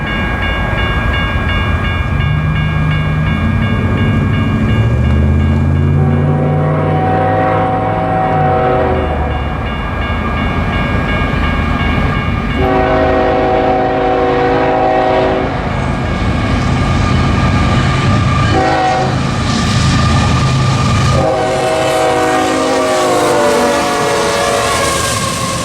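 A heavy Union Pacific freight train rumbles past close by, its diesel locomotive engine droning loudly under a wash of rolling wheel and rail noise, no voices.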